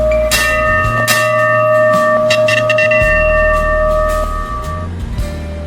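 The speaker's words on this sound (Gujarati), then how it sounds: "હવે આપણે ઘંટી વગાડવાની છે." Temple bell at the Meldi Maa temple struck repeatedly, bright metallic clangs ringing out with sustained tones over low engine-like rumble.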